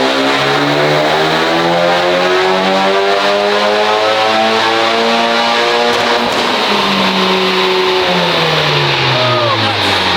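Honda Civic Type R running E85 on a dyno, its engine sustained at high load with a loud, steady drone whose pitch climbs gradually through the pull, close and continuous without any talk.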